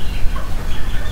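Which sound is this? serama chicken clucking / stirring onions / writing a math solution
serama chicken clucking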